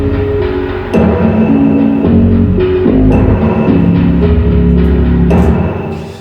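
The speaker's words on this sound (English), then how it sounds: "I've added in a drum break, which I've pitched down a semitone, and again added some Space Designer on that." Drum break pitched down a semitone and washed in a large hall-style reverb, with steady kicks and snares looping under sustained synth chords in a beat, loud and continuous throughout.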